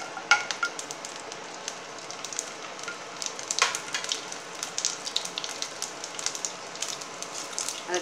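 Mustard seeds and garlic fry in oil for a radish sambar, with a soft sizzle under many sharp popping crackles scattered irregularly throughout, fairly quiet and close.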